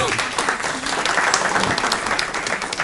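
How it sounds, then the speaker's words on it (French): Audience applause for M. Hiera d'Abélé at the ACAJ de Valenton 2024 gathering, a steady, dense wash of clapping that holds for the full few seconds without a pause. "Applaudissez pour lui, s'il vous plaît"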